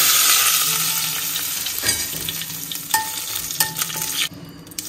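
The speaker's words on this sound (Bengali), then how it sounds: "জিরেটা ভাজা হয়ে গেছে, একটু তেজপাতা দিলাম" Cumin seeds and bay leaf fry in hot ghee for a soup base, a steady close sizzle with brief stirring scrapes and clinks, alone without voices.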